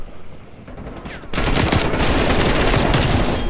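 A light machine gun fires in an online shooter match, a loud, sustained stream of rapid automatic shots that starts abruptly after a quieter moment and runs to the end.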